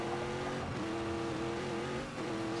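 A car engine in The Grand Tour video game hums steadily at a sustained, fairly loud level, with a slight dip near the end and no talking over it.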